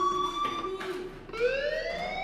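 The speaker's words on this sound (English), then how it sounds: "Hey, do you hear that fire alarm? That means you should be outside." A fire alarm siren in the video game Life is Strange sounds as a steady electronic tone with harmonics, then jumps to a higher sweeping pitch partway through, loud and continuous without talk.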